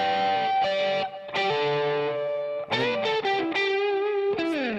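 An electric guitar played through a transistor tape effect gives sustained, distorted, harmonically rich notes and chords with short breaks between phrases, loud and close, with no voices.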